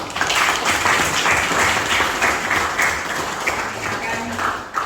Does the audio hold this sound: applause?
yes